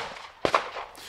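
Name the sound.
gunshots in the distance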